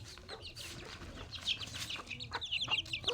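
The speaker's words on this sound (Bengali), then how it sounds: "মুরগি ধান খায়" Chickens cluck in short bursts while pecking at paddy rice outdoors, with soft scuffling and a few brief wing flaps, close and moderately loud over a low background rumble.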